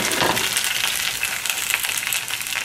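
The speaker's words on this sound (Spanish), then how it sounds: "voy a poner el ajo y la cebolla. Voy a sofreír." Garlic and onion sizzle loudly in hot oil while frying for pozole blanco, a dense, constant crackling hiss close by with no talk.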